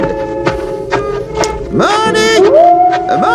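Several dogs howl in overlapping, rising and sliding wails, loud and near, with sharp taps and yips scattered among them.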